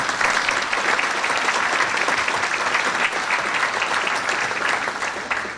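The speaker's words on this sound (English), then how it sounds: "We need to give her a big round of applause." Loud, sustained applause from a large audience at a First Response Appreciation Gala, thanking a photographer. The clapping stays dense and steady for several seconds and thins slightly at the end.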